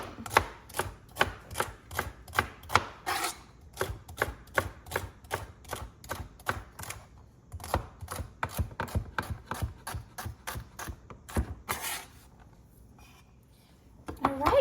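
Knife chopping chicken into small bite-size pieces on a board, rapid loud regular strokes in bursts, briefly pausing and thinning near the end, no voices.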